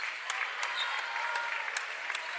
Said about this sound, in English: They get a nice ovation from their home crowd.